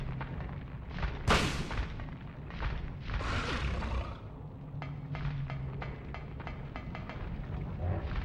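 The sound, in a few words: shotgun firing in the video game Silent Hill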